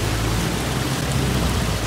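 Heavy typhoon rain during Typhoon Muifa on China's eastern coast near Shanghai makes a dense, loud, continuous roar with low rumbling underneath, steady throughout with no voices.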